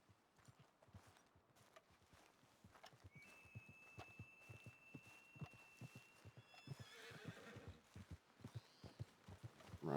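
A horse in Red Dead Redemption 2 walks with a steady, even clip-clop of hooves throughout, while a whinny rises over the steps toward the end.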